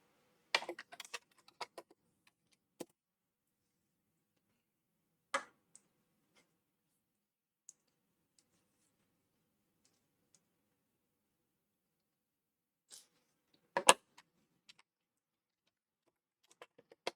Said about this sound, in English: Sorry about the clicking, guys. I know I'm heavy, but it's because I learned how to type on an old Imperial.